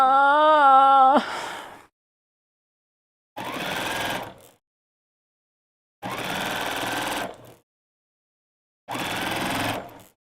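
A sewing machine stitches through a stiff quilt in three separate bursts of a few seconds each with silent pauses between, heard close after a short opening musical tone.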